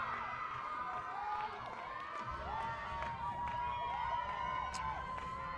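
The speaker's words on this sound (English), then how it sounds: "Both sides cheering on their team" A sustained, loud wash of crowd cheering and shouting from supporters of both sides at a women's varsity lacrosse game between Pioneer and Eisenhower, steady throughout with scattered higher yells rising above it.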